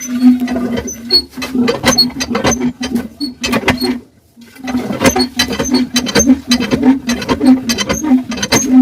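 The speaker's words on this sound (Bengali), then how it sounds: "কলের ভিতরে কিছু পানি দিয়ে আস্তে আস্তে টানতে থাকতে হবে" A tube well hand pump, its nuts freshly tightened after a seat valve change and primed with water, is worked steadily by hand, giving a loud, rhythmic squeaking clank with each stroke and a brief pause midway.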